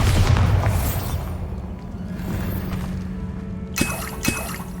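A Bombarda blast in Hogwarts Legacy rumbles low and heavy at the start, then fades into a steady dull background hum, with two short sharp cracks near the end.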